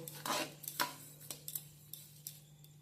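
A utensil stirs sugar into a kalakand milk mixture in a pan, giving soft, irregular scraping and clinking strokes, close and fairly quiet against a faint steady hum.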